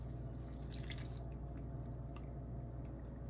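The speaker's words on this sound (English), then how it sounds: "I'm not going to pour the whole thing, but we're going to pour juice in." Pepperoncini brine poured from a large jar into a dish during home cooking, a soft steady trickle with faint drips, quiet and close, no talking.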